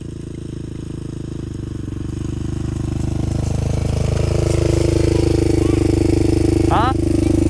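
A Honda 400ex ATV engine drones steadily while riding, loud and close, with the revs climbing gradually and a short squeak near the end.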